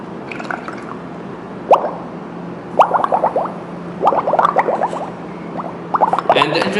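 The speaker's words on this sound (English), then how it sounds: "if I press this bottle, the methane will go here and it's going to form some bubbles" Methane gas from an anaerobic digester bubbling through a tube into liquid as a bottle is squeezed, giving several short bursts of wet, gurgling pops close by with brief pauses between them.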